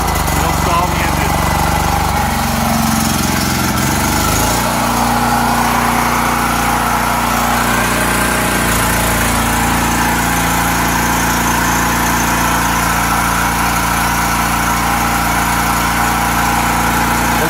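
A Predator generator engine runs on a Tonco 170F trifuel carburetor, a steady close-up mechanical drone that settles after a few seconds into an even, continuous hum.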